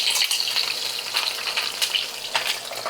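Lamb simmering in a pan for a low-carb Easter dinner gives off a steady, close sizzling hiss with faint crackles throughout, and no voices.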